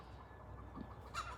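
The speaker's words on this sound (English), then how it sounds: "The chickens are so cool." Chickens give a few faint, short clucks in quick succession against a quiet background, with no one talking.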